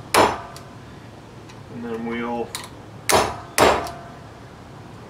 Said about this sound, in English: We're going to use our center punch to mark out the